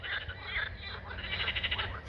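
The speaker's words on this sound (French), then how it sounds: "je pense que à la caméra, on entendra plutôt le son des grenouilles" Outdoors on a windy day, a dense chorus of frogs croaks continuously, a steady buzzing trill from many animals mixed with low wind noise.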